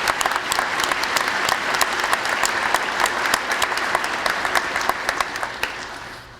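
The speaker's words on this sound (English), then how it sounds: "Let's give the mayor a round of applause." Audience applause at a Saint Paul Police Department academy graduation in an auditorium, a steady, dense burst of many hands clapping that lasts several seconds and fades slightly at the end.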